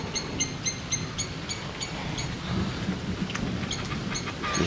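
Steady rain pours during a night thunderstorm, with a low rumble of thunder rolling underneath and several sharper cracks and patters on nearby surfaces.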